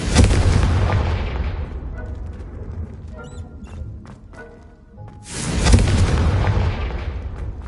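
A Confringo fire-blast spell in a Harry Potter video game bursts with a loud booming explosion, then fades to a quieter stretch with faint effects before a second heavy blast swells up.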